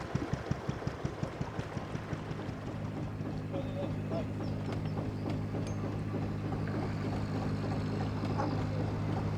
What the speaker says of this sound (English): I'm very relieved to see that there's lots of boat traffic about.